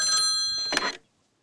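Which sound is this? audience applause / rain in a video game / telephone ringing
telephone ringing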